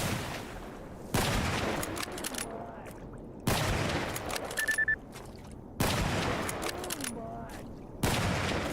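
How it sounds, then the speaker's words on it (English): Shotgun fire in the video game STALKER GAMMA: four loud, close blasts come at spaced intervals, each with a decaying rattle and echo, and game sounds fill the gaps between shots. "That's a shotgun."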